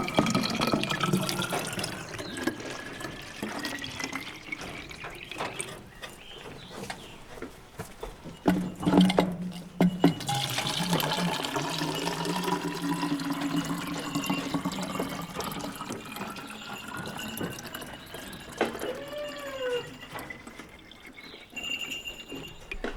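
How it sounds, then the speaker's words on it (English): Water runs steadily into a container for rabbits on an off-grid homestead, a continuous pouring and filling sound with rising pitch as the level climbs, close by and with no talk. "Top off the water."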